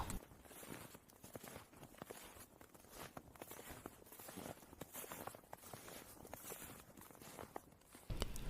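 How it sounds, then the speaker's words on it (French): Footsteps crunching through snow on a dark winter night, a steady run of soft, crisp steps close by that fills the whole stretch with no talking. "crac, crac, un bruit de pas derrière lui"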